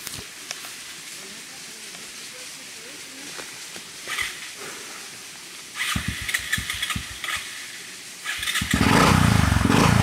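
A motorcycle engine cranks and catches, then revs into a loud, rough roar close by, with scattered clatter beforehand.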